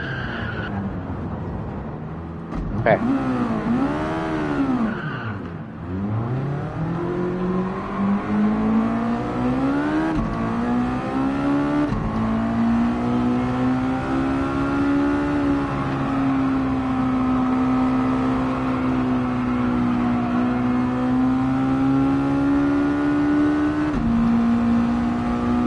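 A race car engine in a racing video game revs hard, its pitch swooping down and climbing back, then holds a high, steady whine. The note wavers only slightly as it stays near and loud, and a voice briefly speaks near the start.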